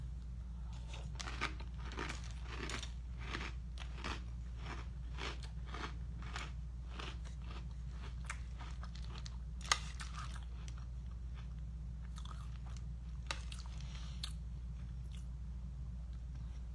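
Close, steady crunching and chewing of Off Limits breakfast cereal, with repeated rhythmic bites and crackles over a low constant hum, no talking.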